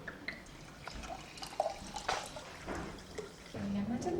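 Water poured from a jug into a glass for a guest at a hotel restaurant table, faint trickling and dripping with a soft rising fill near the end, under quiet talk and room sounds.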